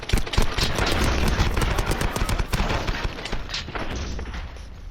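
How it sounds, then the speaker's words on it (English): Rapid gunfire hammering at the Juggernaut in the Call of Duty Modern Warfare 2 campaign, a dense close burst of repeated loud shots with booming low impacts, fading slightly toward the end. "How many shots does it take to take out the Juggernaut?"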